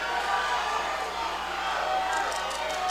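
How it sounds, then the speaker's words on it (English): A boxing crowd at a charity amateur fight night cheers and hoots in a steady, loud roar, with a commentator's voice running over it. "anytime Hansen throws anything, we hear some wild hoots and haws"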